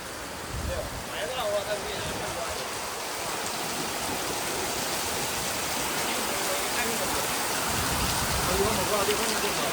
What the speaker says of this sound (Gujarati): પડવો જ જોઈએ વરસાદ અને ચાલુ જ રહેવા દેજે.